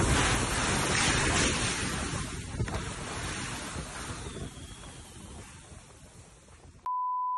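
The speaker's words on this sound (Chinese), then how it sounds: "他拍下了小犬台风的超狂风势" Typhoon Koinu's violent gusts roar across Lanyu island, a loud continuous rush of wind buffeting the microphone, fading somewhat toward the end before cutting off abruptly into a steady tone.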